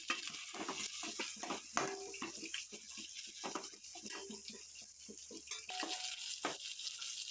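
Curry leaves, a bay leaf and spices sizzle in a pan for a fish fry while being stirred, giving a steady hiss with repeated soft scraping strokes close by.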